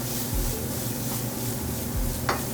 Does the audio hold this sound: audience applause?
no